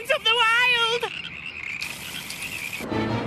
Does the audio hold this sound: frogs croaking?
yes